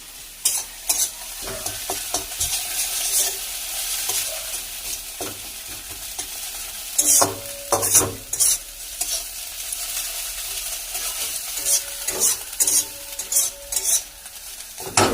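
Food fries in a pan with a constant sizzle, broken by repeated, uneven bursts of a utensil stirring and scraping against the metal. The sound is close, with no talking.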